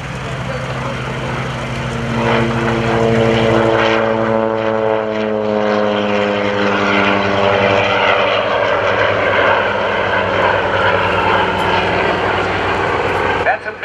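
A Curtiss Helldiver's 1900 horsepower Wright radial engine drones loudly and close, its throbbing pitch shifting as it runs, with someone talking over the roar.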